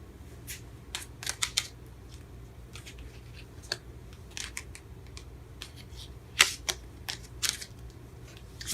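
Tarot cards are shuffled and dealt, with irregular crisp snaps and flicks, some in quick bursts, over a quiet room hum with no talk.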